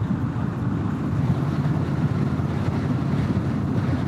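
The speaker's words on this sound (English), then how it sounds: "It is windy today." Strong wind buffets the microphone during a cross-country motorcycle camping trip on a Honda Rebel 1100 as a cold front moves in, giving a constant low roaring rumble that stays loud and steady with no talk.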